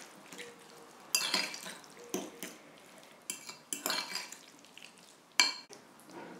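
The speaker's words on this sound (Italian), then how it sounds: "A questo punto aggiungiamo i pomodori alla nostra purea di avocado" A utensil mixes chopped tomatoes into avocado purée in a bowl, making irregular clinks and scrapes against the dish with soft squishing between strokes, close and moderately loud.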